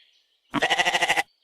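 A goat gives a single loud, quavering bleat of about seven rapid pulses, close by and alone, lasting under a second.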